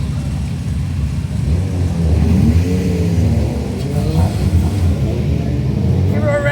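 A Honda race car engine revs in the paddock at Snetterton, a loud, close rumbling climb and fall in pitch, with faint voices underneath.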